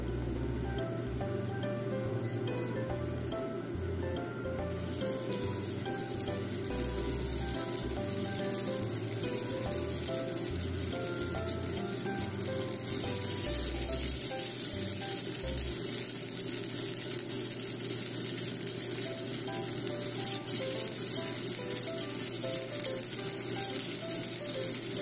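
Tofu hamburger patty made with vegetables and no meat, frying in a pan over low to medium heat, giving a steady close crackling sizzle with a low rattling, bubbling texture that continues without talk.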